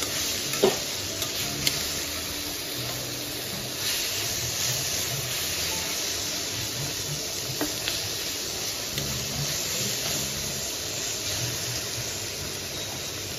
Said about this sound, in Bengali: এইদিকে হচ্ছে ঢেঁকি শাক ভাজা